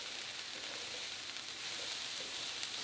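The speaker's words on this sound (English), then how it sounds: "I left the cauliflower for like 4 minutes just to get the underside browned, and then now I'm giving everything a mix." Cauliflower browning in a pan, a soft, even hiss of frying that stays faint and continuous throughout, with no talking over it.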